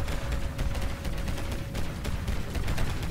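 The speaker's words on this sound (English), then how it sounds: "there's a different sound, and that sound is a railgun" A railgun fires in the Limit Theory space game, a rapid run of sharp crackling bursts over a dense rumbling battle bed, moderately loud and continuous.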